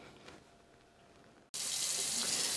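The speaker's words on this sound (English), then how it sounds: "I like to just set my bowl under some running water and just let that water run" A kitchen tap is turned on suddenly and runs in a steady, loud hissing stream into a bowl as fish is rinsed for stock, following a quieter stretch of room noise.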